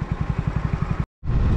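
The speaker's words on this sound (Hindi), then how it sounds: "आज हमारा बर्थडे बॉय बाइक चला रहा है।" Motorcycle ridden on an off-road track through small valleys in Gujarat, a close, rapid throbbing engine beat that cuts out briefly and then returns as a rougher roar.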